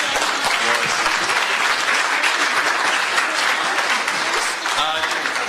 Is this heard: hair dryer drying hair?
no